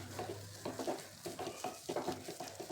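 A spoon stirs thick puran filling of cooked chana dal and jaggery with dry ginger powder and cardamom, making repeated soft scraping strokes in a rhythmic pattern close by, with a faint sizzle beneath.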